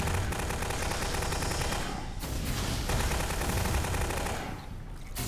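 Rapid gunfire from the top-down shooter video game Alien Swarm, a dense, continuous volley of loud automatic shots running almost the full length, with a brief dip partway through.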